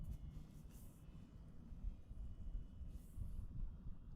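Faint, distant rumble of an airplane departing San Jose airport, a low steady drone that rises slightly in the second half, with no talking.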